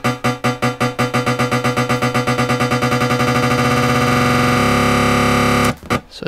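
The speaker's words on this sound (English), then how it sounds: "I'm gonna loop it and I'm gonna shorten the loop." A looped sample whose loop length is automated to shrink, pulsing repeats speeding into a continuous buzzing distorted tone before cutting off, loud and up front.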